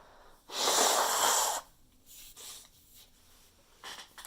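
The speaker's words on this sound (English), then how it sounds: "I gotta blow my nose" A person blows their nose in one strong, loud burst of about a second, followed by a few shorter, fainter sniffs and snorts, with no talking.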